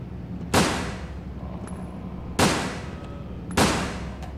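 Three loud gunshots from the PS2 survival-horror shooter Resident Evil Dead Aim, each a sharp broadband crack with a short decaying tail, spaced unevenly over a few seconds with faint game ambience between.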